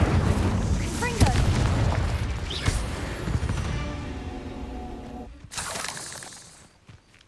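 A Confringo spell in Hogwarts Legacy lets off explosive magical blasts: a series of booming, crackling bursts followed by a sharp, bright final burst near the end.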